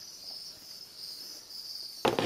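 Crickets in a breeding terrarium keep up a steady, high, continuous chirring at low level, ending in a short burst of broadband rustle or handling noise.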